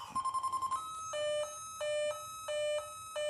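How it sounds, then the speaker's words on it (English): A 1986 Lazer Tag sensor sounds off after the final death shot: a quick run of short electronic beeps, then a steady pattern of long, loud tones repeating in even pulses, close and alone. "the sensor starts to beep a little more rapidly. And then when you make your final death shot,"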